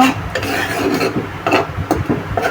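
Fish being mixed by hand with oil and spices, heard as a close, continuous wet squelching and rubbing with short slapping bursts, with no voices.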